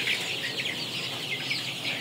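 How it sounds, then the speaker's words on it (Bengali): Young 22-day-old Sonali chickens cluck and chirp continuously in a poultry brooder with litter bedding, a dense flock chorus close by with no talk. "এখান দিয়ে আমাদের মুরগিগুলা কি সুন্দর ফালাফালি করতেছে"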